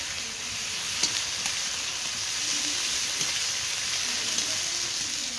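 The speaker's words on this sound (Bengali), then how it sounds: "পেঁয়াজগুলো ভাজা হয়ে গেছে, এখন রসুন ভেজে নেব একটু।" Garlic frying in oil in a pan after the onions have browned, during a Bengali village-style fish curry: a steady, loud, broadband sizzle with a few faint stirring clicks, no voices.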